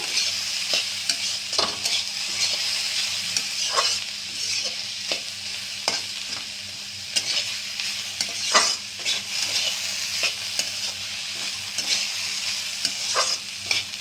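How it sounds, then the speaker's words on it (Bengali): Ingredients fry in a kadai under a constant sizzle while a utensil stirs and scrapes the pan in irregular clacks and swishes, close and clear with no talk. "আমি এটা নেড়ে চেড়ে একটু ভাজা ভাজা করে নিলাম"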